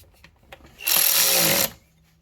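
A power tool runs briefly in one close, loud burst under a second long while driving a Mazda CX-9 throttle body screw into plastic, with faint handling noises before and after.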